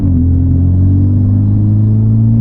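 Honda Civic Type R in sport mode pulling in first gear, a loud, steady low engine drone with a slowly rising pitch filling the whole stretch, no voices over it.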